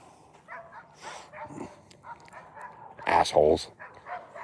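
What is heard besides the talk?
dogs barking and yipping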